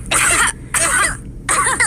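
Cartoon grown-ups in Peppa Pig cough in three quick, raspy bursts evenly spaced apart, close and clear with no talking.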